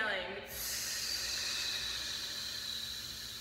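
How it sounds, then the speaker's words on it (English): One long, forceful exhale blown out through the mouth during a postpartum core breathing exercise, a steady close airy hiss that holds for about three seconds after a brief catch at the start. "on your exhale, you're going to blow out for as long as you possibly can"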